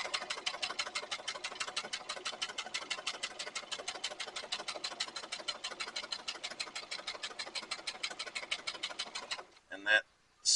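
A sewing machine stitches a leather tote bag in a fast, even run of needle strokes for about nine seconds, then stops with a few clunks and handling sounds.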